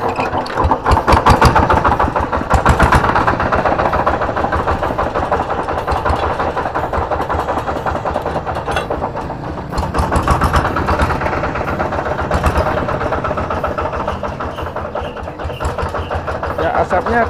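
A rough-running diesel engine with a worn bearing idles loudly and close with an uneven, knocking chatter throughout, as people talk over it.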